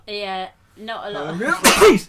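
A single sharp sneeze bursts out near the end, loud and close, right after people talk.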